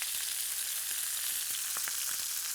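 Duck sizzling in a hot pan for carnitas, a steady bright frying hiss with small crackles and pops scattered throughout, close and with no talking.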